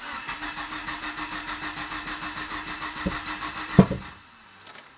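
A Mitsubishi Evo 9 running a base map tune on an Ecumaster EMU cranks with a rapid, even starter rhythm for several seconds, then gives a sharp cough or catch and falls quiet, close and fairly loud.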